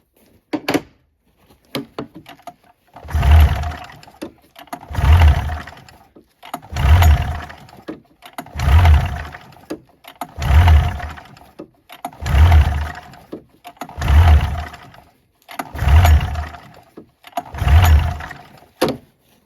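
An old snowmobile engine that has sat a long time with stale gas cranks over and over without firing, loud rhythmic bursts repeating about every two seconds, close up and alone.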